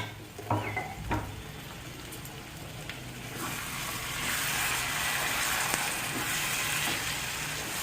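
Water poured into a pan of minced meat frying with spices, a few soft knocks and stirring sounds followed by a steady, swelling sizzle that carries on close by without talk.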